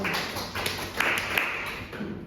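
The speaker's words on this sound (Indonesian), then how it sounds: "Beri tepuk tangan dulu kepada Mbak Alvina" Brief light clapping from a classroom of students, a few soft scattered claps over a steady background hum, faint and short.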